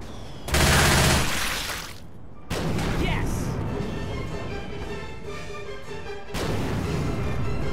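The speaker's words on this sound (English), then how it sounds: "He's shooting me, man!" Gunfire in the zombie co-op shooter Left 4 Dead 2, loud bursts of rapid shots with booming blasts that surge and fade across the clip, mixed with players talking.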